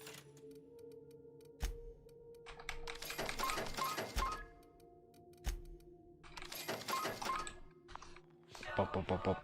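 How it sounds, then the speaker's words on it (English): Bursts of keyboard typing in The Outer Worlds, quick clusters of clicky keystrokes separated by pauses and sharp single taps, fairly close and moderately quiet. "Why are you typing this, Sherby?"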